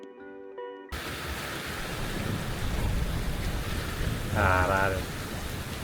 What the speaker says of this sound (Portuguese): Olha a chuva, mano.